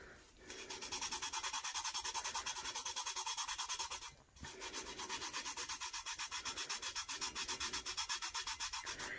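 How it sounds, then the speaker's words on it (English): Vinyl is rubbed briskly against a glitter-coated tumbler in fast, even back-and-forth strokes, a close scratchy swishing that runs steadily, pauses briefly, then resumes. "rubbing a lot of the blue off, but what is staying is super shimmery and pretty."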